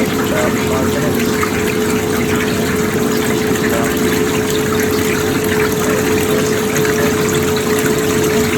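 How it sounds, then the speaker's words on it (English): A Kelvinator Model 269 washing machine runs its final spin cycle, a steady loud motor hum with watery pumping and gushing throughout, close up and unbroken. "Final spin, which takes about 5 minutes."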